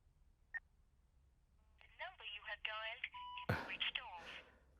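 A telephone number is dialed in a quiet room: one short tone, then a rapid run of keypad beeps followed by a brief ringing burst, clear and close with no talk.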